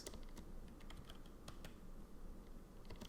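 Rapid typing on a computer keyboard, a steady stream of light key clicks close up with a few louder taps, no voices.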